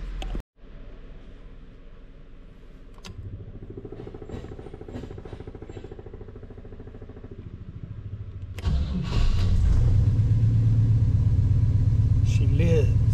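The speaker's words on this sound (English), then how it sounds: "And now I'm going to start up the car and see what happens." A car engine cranks and fires, then settles into a loud, steady idle rumble close by, with a person talking quietly beforehand.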